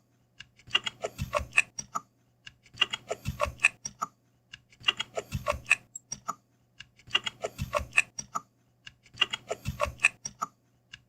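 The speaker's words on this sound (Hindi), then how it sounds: "अब इसमें मैं पासवर्ड दे रहा हूँ।" A password typed on a laptop or PC computer keyboard: five close, rhythmic bursts of rapid key clicks separated by short pauses, heard alone without speech.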